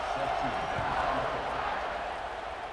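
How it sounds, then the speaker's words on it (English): Stadium crowd noise in an American football video game, a steady broadband roar and buzz of a large crowd holding at a constant level before a kickoff. "this crowd is buzzing after that last score"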